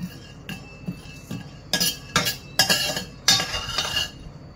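Spices are dry-roasted in a pan with no oil, giving a run of clinks and scraping strokes from a utensil against the pan that grow louder and come in quick bursts.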